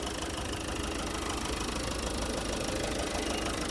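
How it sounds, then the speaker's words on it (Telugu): A 2015 Ford EcoSport Ambient diesel engine idles with a steady, even mechanical rumble and fine knocking texture, constant and close with no voices. "ఇంజన్ కూడా సైలెంట్ ఉంది, ఎక్కడ ఆయిల్ లీకేజ్ అనేది లేదు."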